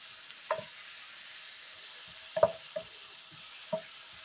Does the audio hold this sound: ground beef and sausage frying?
yes